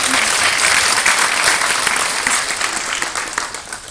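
Loud, dense audience applause for a French lyricist performer, a close wash of many hands clapping steadily before easing off slightly toward the end.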